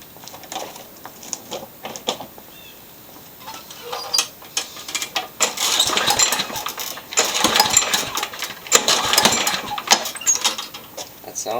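Pull-start rope on a Craftsman lawn mower, spark plug disconnected, yanked a couple of times: ratcheting, whirring mechanical bursts from the recoil starter and turning blade, loud and close, with no engine catching.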